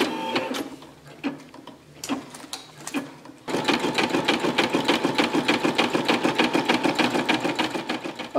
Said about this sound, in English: we just go ahead and lower the presser foot and get ready to embroider